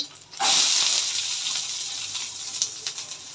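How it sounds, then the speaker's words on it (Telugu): Onions fry in a pan for liver fry, a sudden loud hissing sizzle that flares up and then settles into a steady crackle, close and with no talk. "ఉల్లిపాయలు వేసాము చూడండి కలుపుకుంటున్నాము ఉల్లిపాయలు వేగిపోయాయండి"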